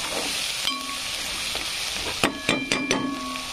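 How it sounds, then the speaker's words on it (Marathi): Curry leaves frying in a pan for masala pulao, a steady close sizzle with a few sharp crackles and spits near the end, no voices. "कढीपत्ता पण फ्राय होऊ द्यायचा आहे मध्ये।"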